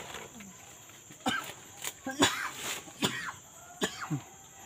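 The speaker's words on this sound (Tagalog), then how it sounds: "Inuubo na." A sick person coughs several times in short, sharp bursts, fairly close, with other people talking around the coughs.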